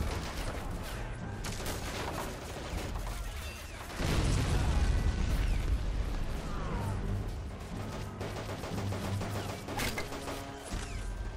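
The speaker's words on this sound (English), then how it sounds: "Artillery strike incoming." Artillery shells burst in the WWII strategy game Men of War: Assault Squad, British versus German forces at Arnhem, a series of crashing booms and mechanical clatter with a heavy, loud impact a few seconds in.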